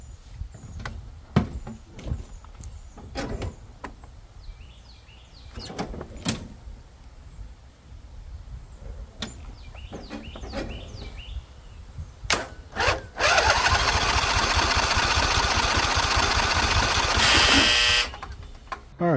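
Husqvarna lawnmower with a freshly cleaned gas tank being started: a series of scattered thumps and rattles, then a loud, sustained engine roar for about five seconds before it cuts off.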